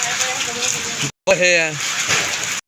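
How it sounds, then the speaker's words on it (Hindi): Hailstones pelting down alongside newly started rain, a dense, steady broadband clatter that fills the clip, with someone talking over it and a brief break partway through. "बहुत ज़्यादा में ओले आ रहे हैं और अब साथ बारिश आना शुरू हुई है।"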